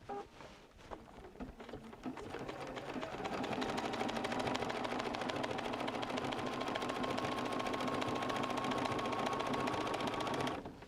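Domestic sewing machine stitching down appliqué on a modern art quilt wall hanging: a brief start, then a steady, loud, continuous whir of rapid stitching running for several seconds before stopping.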